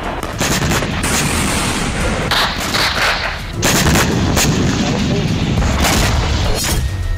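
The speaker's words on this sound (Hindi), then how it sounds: "हमास के लड़ाके सुरंग में मौजूद हैं, वहीं से इजरायली सेना पर मोर्टार से हमले कर रहे हैं।" Mortar fire in fighting between Hamas fighters and the Israeli army, with repeated loud, sharp blasts and crackling reports coming in quick bursts over a continuous rumble.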